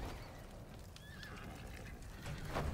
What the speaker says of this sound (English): It sounds like my horse is dying out here.